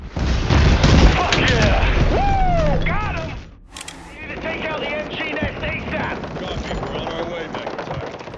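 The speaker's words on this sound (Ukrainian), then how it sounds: "хтось там стріляє" Bursts of gunfire and booming blasts in the video game Battlefield 6, with whistling, sweeping effects, loud and busy, cutting out briefly before rumbling action resumes.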